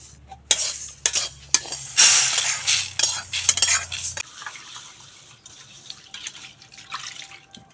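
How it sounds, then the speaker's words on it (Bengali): Fried moong dal being washed, with clattering of a utensil and vessel and rushing tap water, loudest in the first half before settling to a softer running stream, close by. "এখন নামিয়ে ধুয়ে নেব"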